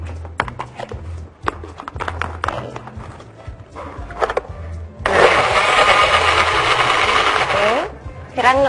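A kitchen blender grinds spices with about 50 ml of water, a loud, close, steady roar lasting about three seconds that starts after a stretch of speech and clattering.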